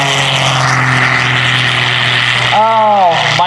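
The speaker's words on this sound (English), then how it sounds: "Michael Wiskus on the takeoff with smoke on." Aerobatic propeller airplane taking off at the 2021 New York International Air Show with smoke on, a loud sustained engine drone rising in pitch, with an announcer talking over it.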